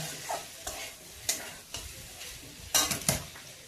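Jackfruit cooked with yogurt sizzles in a pan while a spoon stirs it in a few scraping strokes, close and moderately loud, with no talking.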